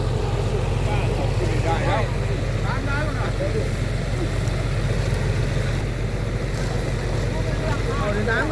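A 300-horsepower engine drives a water pump with a 12-inch pipe at a fish pond, a steady low drone with wind noise running throughout, while someone talks over it.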